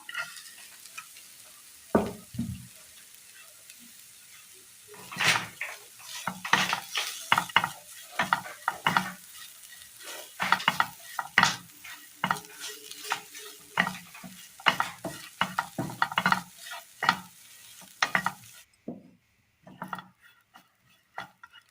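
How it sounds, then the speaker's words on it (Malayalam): Grated coconut being stirred in a pan while frying for a Kerala snack, with a spoon scraping in irregular close strokes over a soft sizzle, loud and busy, before going quiet near the end. "ഇനി ഇതിലേക്ക് തേങ്ങ തിരുമിയത് ഇട്ട് കൊടുക്കാം"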